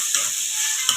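Chopped tomatoes are stirred and sautéed in a hot pan for chicken curry, a loud close sizzle with two quick scraping strokes of the spoon.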